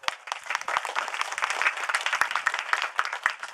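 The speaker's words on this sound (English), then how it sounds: "Give her a big round of applause" An audience at a political campaign gathering in a private mansion gives a round of applause, many hands clapping in a steady, lively patter at moderate distance with no talk over it.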